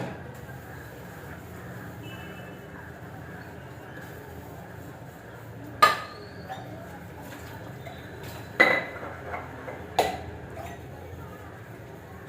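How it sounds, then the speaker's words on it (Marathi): Dishes, pots and pans being scrubbed and washed in a home kitchen, a few sharp metallic clinks and knocks of utensils over a low running-water background, near and intermittent. "चला आता भांडी घासून टाकते."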